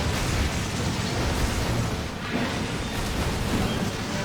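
Giant explosion in the Resident Evil 6 video game: a dense, roaring blast rumble that fills the whole stretch, loud and sustained with a slight dip midway, no voices.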